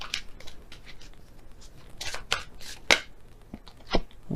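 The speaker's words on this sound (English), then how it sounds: "So I'll shuffle again and see which one comes out." Tarot cards are shuffled by hand in quick, irregular bursts of crisp riffling and slapping, close and moderately loud, with short quiet gaps between and no talking.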